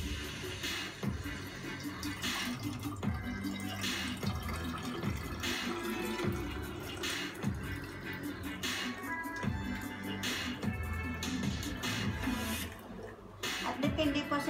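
Soaked lemon tea being strained into a jar at home, liquid pouring and dripping with irregular splashy trickles, close up, alongside a person talking.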